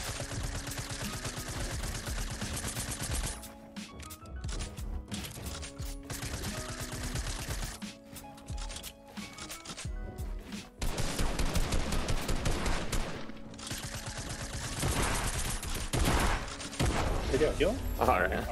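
Dense Fortnite Battle Royale gunfire in a trio match, rapid sustained bursts and sprays that keep up almost without pause, loud and close, with dense effects layered over game music and a squad chatting under it.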